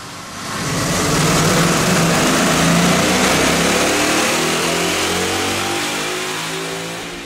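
A 2011 Mustang GT 5.0 V8 fitted with BBK headers and an aftercat X-pipe revs hard on a dyno, a loud sustained roar that swells quickly, holds at high pitch and eases off slightly toward the end.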